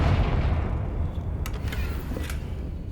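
A Confringo fire spell explosion in Hogwarts Legacy, a deep rumbling boom that fades, followed by a few brief crackling bursts.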